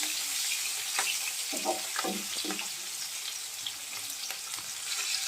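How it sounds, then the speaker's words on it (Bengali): Large square-cut chopped onions frying in a pan for matar paneer, a constant close sizzle with a few soft scraping stirs near the start, alone with no talk. "পেঁয়াজটা দিয়ে আমি ভালো করে ভেজে নেব"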